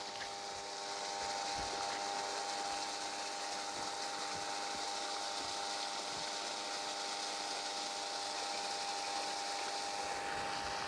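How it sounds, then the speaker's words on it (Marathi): An electric water pump motor hums steadily after switching on by itself on an automatic timer, a constant tonal drone with a faint mechanical whine that holds at an even level throughout, with no talking. "आपली मोटर इथं स्टार्ट झालेली आहे"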